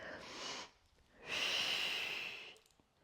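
A person breathes out during a Pilates exercise on a mat: a short breath and then a longer, stronger exhale, both close and heard alone.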